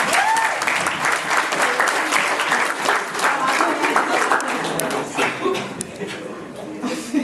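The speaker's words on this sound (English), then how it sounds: "Huge round of applause for everybody on." Audience at a comedy hypnosis show bursts into sustained, dense applause mixed with scattered cheers and chuckles, loud and continuous throughout.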